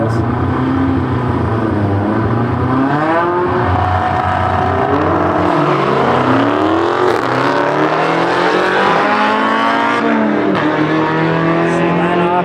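A drag racing car launching down the strip, its loud engine revving up through the gears in rising sweeps, close and sustained, with people talking over it.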